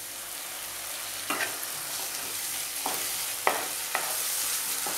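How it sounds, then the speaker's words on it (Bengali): Tomato paste sizzling in a pan for a Bengali matar paneer curry, with a steady fry hiss broken by several sharp scraping strokes of a spatula stirring it, close and clear, no talking. "টমেটো পেস্টটা আমি 5 মিনিট মতো ভাজবো, ঘন ঘন নাড়তে হবে"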